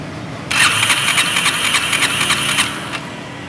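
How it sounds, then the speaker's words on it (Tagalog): A motorcycle that had been refusing to start cranks and catches, giving a loud, steady burst of engine noise for about two and a half seconds before it cuts off. No one speaks over it. "Start nyo ulit ano mga boss. Para umandar na siya."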